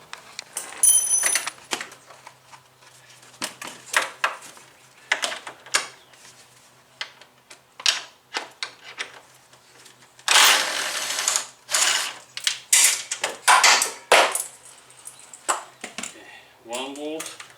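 Ratchet undoing 10 mm bolts on the front end of a 2015 Ford Transit 250, with irregular bursts of clicking and metallic clatter between pauses, close by, with some speech in between.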